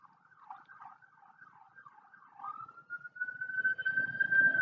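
An ambulance siren wails in slow, repeated up-and-down sweeps, starting faint and distant, then settling into a steadier tone that grows louder as the vehicle draws nearer.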